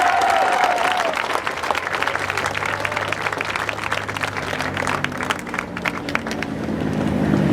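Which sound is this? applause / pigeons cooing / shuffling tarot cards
applause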